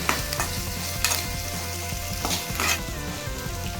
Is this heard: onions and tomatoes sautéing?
yes